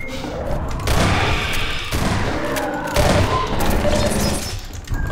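Secondary weapon fire in Half-Life 2 Episode 2 lands as several heavy, close blasts with thudding booms and crackling gunfire between them, loud and chaotic.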